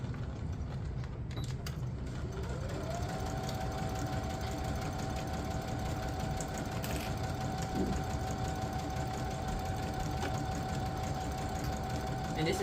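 A sewing machine stitches a curved seam at 5/8 inch seam allowance on a Simplicity 9136 garment, a steady continuous motor whir with a rising pitch near the start that then holds level, close and moderately loud throughout.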